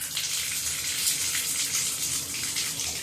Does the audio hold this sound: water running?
yes